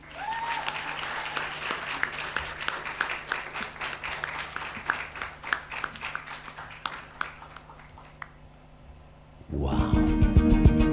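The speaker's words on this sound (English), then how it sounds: "Another beautiful round of applause, ladies and gentlemen." A conference audience at an African e-waste event applauds after a speech, sustained clapping that gradually thins and fades, then a speaker's amplified voice takes over near the end.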